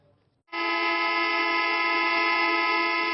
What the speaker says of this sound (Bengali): বিভিন্ন বাস টার্মিনালে একযোগে হর্ন বাজিয়ে প্রতিবাদ জানান বাস শ্রমিকরা